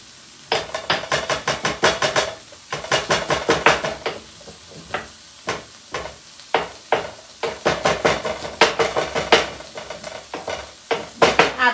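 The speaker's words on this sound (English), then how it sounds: "I'm going to grab my mortar and pestle and I'm going to just" A pestle pounds pepper in a mortar in a kitchen while cooking chipotle paneer fajitas, a rapid series of sharp close knocks and grinding crunches in rhythmic bursts with brief pauses between.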